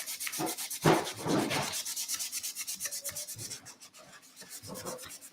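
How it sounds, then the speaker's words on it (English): Clogged sandpaper rubs back and forth over not-quite-dry paint in quick, rhythmic strokes, close by, fading to lighter scuffs toward the end. "This one's all loaded up from sanding paint that's not quite dry."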